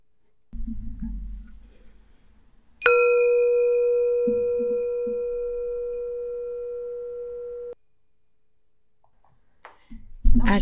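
A single bell chime rings out to begin a children's stretching exercise, a clear sustained metallic tone that decays slowly over about five seconds before cutting off; a low voice murmurs before and after.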